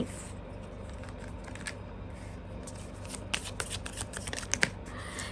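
Tarot cards shuffled and drawn by hand, giving soft papery riffles and flicks that turn into sharper snaps and slaps near the end, close and quiet over a steady low background hum.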